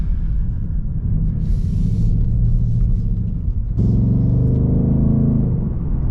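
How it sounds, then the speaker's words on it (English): Steady low exhaust rumble from a 2024 Mustang GT in track mode, with engine revving and exhaust popping, rising in intensity partway through; no talking. "The car sounds nice, I have to say, in the track mode. Yeah, it's popping."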